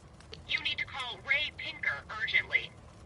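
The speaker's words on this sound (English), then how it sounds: "It's ringing now" A telephone rings in the detective game L.A. Noire, its repeated bright electronic trill sounding under steady talking.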